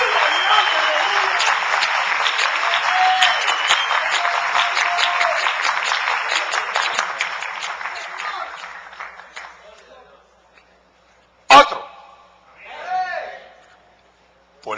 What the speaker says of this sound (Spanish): Dale otro aplauso bien fuerte al Rey.